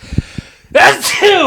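A single loud, close sneeze bursts out sharply after a few soft breaths, with a short spoken exclamation right after it.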